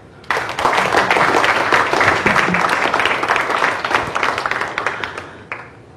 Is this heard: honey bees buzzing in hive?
no